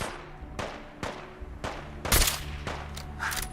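Gunfire in the video game Fallout 4: several sharp shots in an irregular sequence, a burst of rapid fire in the middle, loud and close with no talking over it.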